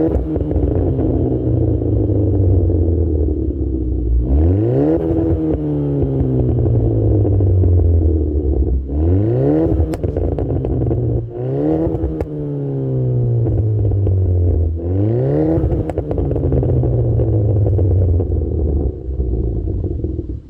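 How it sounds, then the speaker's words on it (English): Hyundai Elantra Sport with a dual exhaust and Pierce Motorsports turbo downpipe, loud and close, revving up through gears in repeated rising sweeps with a deep burbling drone between pulls, no voices. "I'll give you guys a sound clip of the exhaust"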